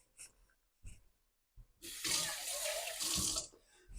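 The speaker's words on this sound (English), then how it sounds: "So just give my can a quick rinse." Tap water runs into a kitchen sink while a can is rinsed under it, a steady splashing gush for about two seconds after a few faint handling knocks.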